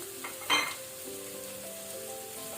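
Two medium onions with a dried red chilli fry in a pan for a methi paneer dish, giving a steady low sizzle under a brief louder stir or clatter near the start, with no one talking.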